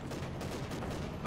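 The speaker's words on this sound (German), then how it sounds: "Feindliche Pack beschießt uns!" An enemy anti-tank gun keeps firing in Company of Heroes 2, a dense continuous battle rumble of overlapping reports in the distance, with no clear separate shots.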